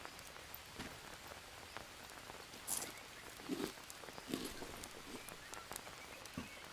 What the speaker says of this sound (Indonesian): Hujan mulu dah.